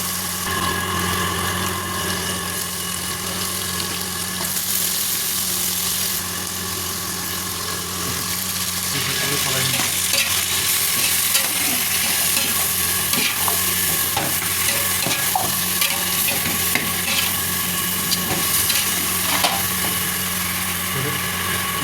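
Chicken frying and being stirred in a pan with onion, capsicum and potato for a chicken curry, giving a steady loud sizzle with scraping stir strokes that grow busier partway through, with no talk.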